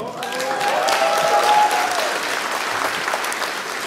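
Audience applause fills a concert hall during a live stage performance, a dense, sustained clapping that swells and then eases slightly, with a brief voice heard faintly near the start.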